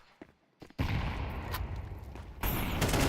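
A burst of rapid gunfire from a competitive esports shooter match starts after a quiet stretch of soft footsteps and keeps going loud and continuous, with a further surge near the end.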